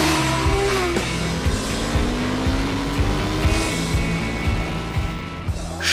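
A Suzuki Hayabusa motorcycle accelerates hard during the Fischereihafenrennen harbour race in Bremerhaven, with a loud, continuous engine roar that climbs in pitch as it pulls away and other racing machines blend in behind.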